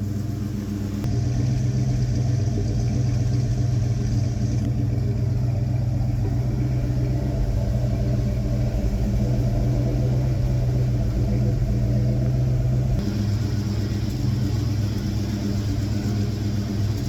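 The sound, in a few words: 1971 Ford Torino engine running with exhaust leak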